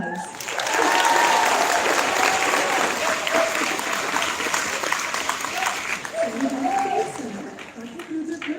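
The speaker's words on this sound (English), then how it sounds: "So a big round of applause." Steady audience applause at a school Black History assembly, a full continuous patter lasting several seconds, with faint voices and murmurs toward the end.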